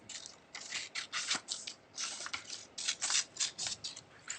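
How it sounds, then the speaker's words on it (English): Scissors snip steadily through a strip of craft paper over a table, a quick run of close, crisp cuts with short pauses between strokes and no talking. "cut it into a strip"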